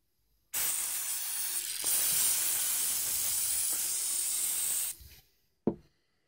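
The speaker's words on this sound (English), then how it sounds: "So I'm going to spray a little bit more of the GUNK stuff." An aerosol can of GUNK degreaser hisses loudly in one long continuous burst of about four seconds onto MK4 car parts, then stops, followed by a brief sharp knock.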